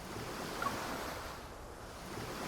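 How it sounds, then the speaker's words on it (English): Ocean waves in the Love and Deepspace video game, a steady, moderately loud wash of surf mixed with wind rushing over the sound, continuous and without voices. "the sound of the ocean"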